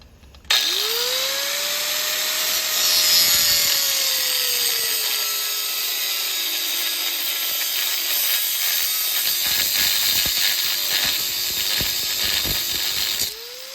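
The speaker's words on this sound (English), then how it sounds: "See if I can clean it out with the grinder." Angle grinder cleaning braze off a steel part from a Caterpillar 112 grader, starting abruptly and whining steadily at close range, its pitch sagging under load and rising again, then cutting off at the end.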